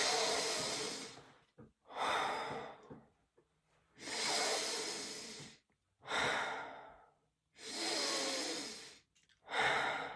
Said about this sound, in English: just take some deep breaths with me